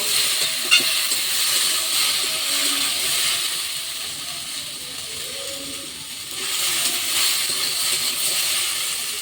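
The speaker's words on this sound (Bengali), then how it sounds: "এই যে জ্বালন, এই উনুন আর এই রান্না।" Okra with poppy seeds frying in a pan on a stove, a steady loud sizzle with scraping stirring, swelling briefly near the end, close and without talk.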